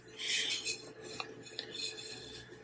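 Residue being scraped off a sublimation tumbler, a close, continuous rasping scrape with a few small clicks, heard alone.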